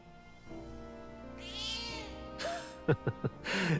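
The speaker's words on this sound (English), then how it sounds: "cat." A cat in the video game Metaphor: ReFantazio gives a clear drawn-out meow, then a few short chirping mews, close and distinct over quiet game music with no talking.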